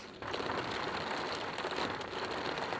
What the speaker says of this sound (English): All of our equipment is sitting out there getting soaked in the rain.